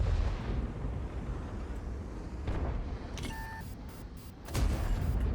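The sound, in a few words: tank cannon shot in video game World of Tanks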